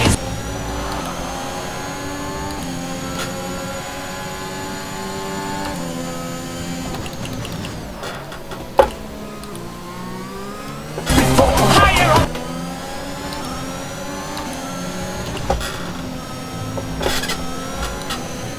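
A high-pitched Formula 1 car engine in the video game F1 2021 whines continuously, its pitch climbing and dropping through gear shifts, with a sharp rattling burst partway through.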